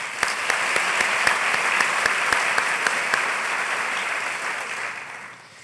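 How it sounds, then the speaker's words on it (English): Applause from a large audience at a 2016 university convocation, a broad wash of clapping with a few sharp nearby claps punctuating it, holding steady before tapering off at the end. "let's all give every one of those a round of applause"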